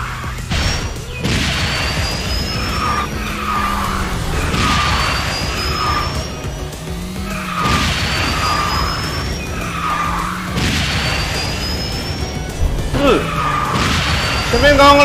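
Kart crash in KartRider: Drift racing game, repeated skidding and impact bursts as a braking rival rams the kart, with engine drone and talk throughout.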